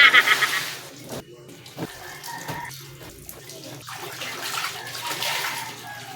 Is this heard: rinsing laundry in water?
yes